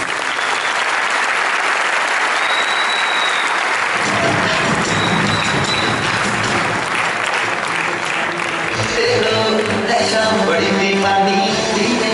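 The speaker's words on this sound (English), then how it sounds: "we have a round of applause for our Emirates?" Loud, sustained audience applause at a Network 21 business seminar, a thick continuous roar of clapping that swells fuller partway through, with scattered voices and cheers mixed in.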